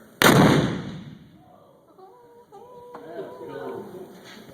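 A single loud cannon blast booms out and decays, followed by faint voices murmuring in the background.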